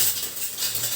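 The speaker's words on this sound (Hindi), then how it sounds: "साथ ही इसको हम इस तरह से चला भी लेते हैं, ताकि यह थोड़ा घी में फ्राई भी हो जाए" A spoon scrapes and stirs kesariya halwa frying in ghee in a pan, with a steady close-up sizzle and faint metallic clinks against the pan, no voices.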